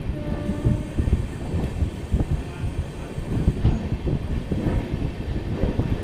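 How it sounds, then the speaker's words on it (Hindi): An oncoming train hauled by a WDG4 diesel locomotive rumbles past on Indian railway track with steady rattling and clattering, heard from aboard another train. "भी हमारे सामने से एक और ट्रेन जो आ रही है"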